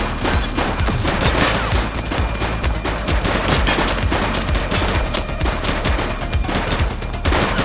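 Police shootout in the game The Precinct, rapid bursts of automatic gunfire and overlapping shots crackling continuously, loud and close, with dense volleys and brief gaps throughout.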